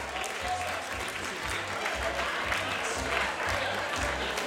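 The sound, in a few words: audience applause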